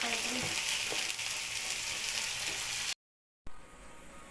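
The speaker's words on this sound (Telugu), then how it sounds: "ఇక్కడైతే పాలకూర కర్రీ చేస్తున్నాం" Spinach curry (palak) frying in a pan, with a steady, close and loud sizzle that runs without pause and then breaks off briefly before resuming a little quieter.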